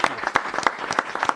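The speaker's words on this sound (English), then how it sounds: "Let's give a round of applause." Applause for the Yorktown Volunteer Ambulance Corps at a town board meeting, a brief burst of distinct claps from a modest group, fairly close and uneven in rhythm.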